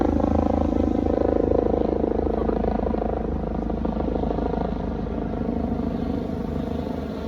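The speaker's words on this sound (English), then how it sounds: "I don't know if you can hear the helicopter," A loud, steady helicopter drone with a rapid rotor thump, continuous and close for the whole stretch.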